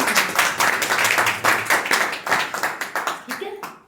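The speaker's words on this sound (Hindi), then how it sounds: "हालेलुया की महिमा जोरदार तालियां" A church congregation claps during a worship service, rhythmic, fairly close bursts of hand claps in a steady beat that thin out and fade toward the end, with voices mixed in underneath.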